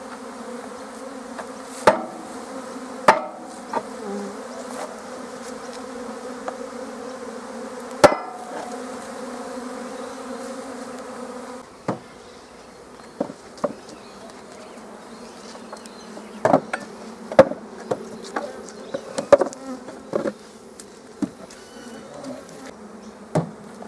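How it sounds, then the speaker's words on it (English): Honey bees hum steadily around an open, queenless hive with chalkbrood disease, a dense close buzz broken by scattered sharp knocks and clicks from hive handling. "Quite a few bees in this hive"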